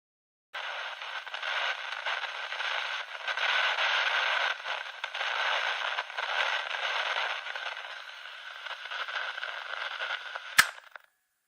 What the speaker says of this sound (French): suivi du bruit d'un bouton de radio qu'on presse, et puis le bruit blanc de la radio s'arrête